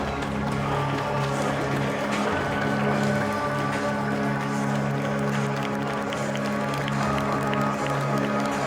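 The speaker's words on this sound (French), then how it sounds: "Un premier applaudissement pour le joueur Jurel Star." A large stadium crowd at a Red Star FC football match claps and cheers continuously in a big open space, with a steady wash of applause and murmuring voices.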